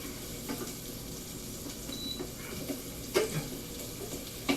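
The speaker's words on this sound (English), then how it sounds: "we're going to saute it down until the shallots are pretty much translucent" Shallots sauteing in a pan for chicken cordon bleu give off a quiet, steady sizzle with a few soft clinks and scrapes, heard alone with no talk.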